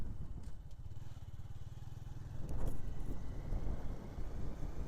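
Motorcycle engines drone and rev nearby on a road through dense forest, with a rising pass midway, steady and fairly loud against wind rumble.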